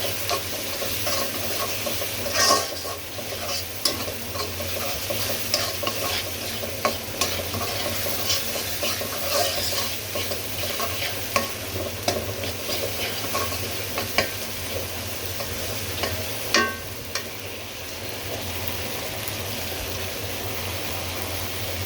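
Food frying in a pan keeps up a steady close sizzle while a utensil stirs it in occasional scraping strokes, with a low hum in the background.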